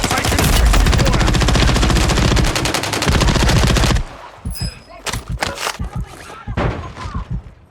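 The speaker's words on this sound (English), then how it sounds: "Taking effective fire." Video game gunfire: a loud, dense burst of rapid automatic fire for about four seconds, then scattered single shots and thuds at lower level.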